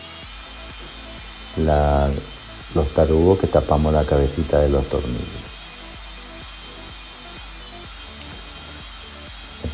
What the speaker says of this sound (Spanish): lo pasamos la lijadora a banda